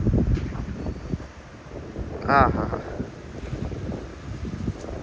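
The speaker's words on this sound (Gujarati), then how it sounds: "પવન ફૂલ છે" Strong wind buffets the microphone at an outdoor horse farm, a steady low rumbling roar that rises and falls, while a person laughs briefly in the middle.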